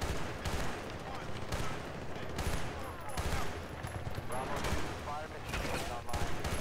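Gunfire and explosions in the Bad Company 2 video game, with dense, continuous bursts of shooting and battle noise that persist throughout. A voice speaks over the din.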